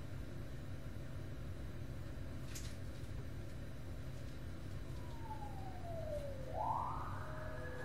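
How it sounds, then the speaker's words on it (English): A siren in the game Silent Hill 4: The Room wails faintly in the distance under a steady background hum, its pitch sliding down and then sweeping back up near the end. "siren's blurring in the background"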